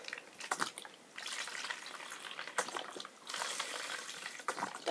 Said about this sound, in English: So, let's just fill this with water.